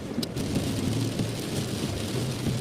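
Heavy rain falls with thunder during a cold storm as vehicles move slowly, producing a dense hiss of rain over a low, rolling rumble that stays continuous and fairly distant.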